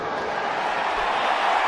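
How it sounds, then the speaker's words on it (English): A large stadium crowd at the 2015 Currie Cup rugby final between the Lions and Western Province, roaring steadily and loudly after a successful place kick. "Great roar from the crowd as Marnus Boshoff kicks his first successful place kick."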